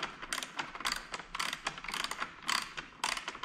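A ratchet wrench with a socket loosens a screw on a car's daytime running light fitting: quick bursts of sharp, close clicking from the pawl, repeated in short rhythmic strokes with brief pauses between them.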